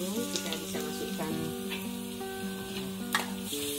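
Aromatics sizzle steadily in a frying pan for fried capcay, a constant close hiss with light stirring, played under background music.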